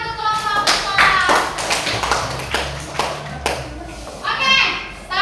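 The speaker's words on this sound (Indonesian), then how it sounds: "tepuk tangan untuk kelompok sekolah" School group in a classroom giving a round of clapping, a handful of sharp claps at an uneven rhythm mixed with children's voices and chatter.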